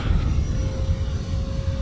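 An RC F-16 Falcon electric ducted-fan jet flies a wide loop outdoors, its steady whining roar holding a sustained tone over low wind rumble.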